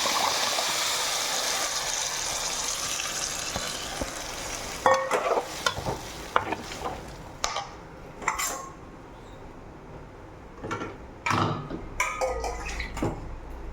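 Fish head curry poured into a hot pan, a brief wet sizzling slosh followed by clinks and scrapes of a utensil against the pan, close and fairly quiet with no talk.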